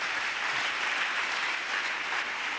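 A church congregation applauding, a dense, even burst of many hands clapping together, loud and continuous with no speech over it.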